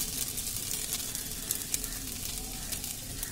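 Food fries in a pan with a steady, bright sizzle while a spoon stirs it, occasional soft clinks and scrapes rising above the hiss, close and alone without talk.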